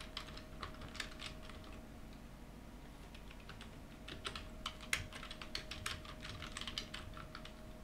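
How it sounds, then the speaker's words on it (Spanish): Steady typing on a computer keyboard while entering a search in Windows, with irregular clusters of quick clicks over a low constant hum and a faint steady tone, fairly close and quiet, with no voices. "Escribiremos en el buscador la palabra información del sistema."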